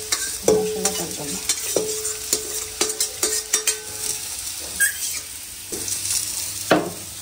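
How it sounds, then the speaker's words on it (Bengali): Spiced beef and potatoes sauté in a pan, a soft sizzle under repeated spatula scrapes, knocks and squeaky clinks against the metal, close and fairly quiet, no voices. "এখন জাস্ট একটু কষাবো।"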